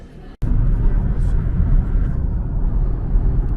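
Airplane flying, a loud steady low cabin rumble that cuts in abruptly after a brief quieter moment and drones on evenly.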